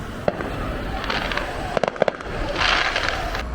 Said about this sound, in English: there was some fireworks behind us just when we like went to the bottom of the hill